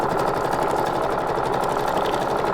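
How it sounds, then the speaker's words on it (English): A sewing machine stitches a decorative stitch on book-page paper for a junk journal belly band, running at a steady fast rhythmic whir, close and continuous throughout. "I'm going to do a little decorative stitch right here"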